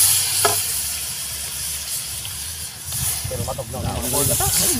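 Coconut cream poured over crabs cooking in a pan sizzles with a steady steamy hiss, a brief splash near the start, while someone talks over it.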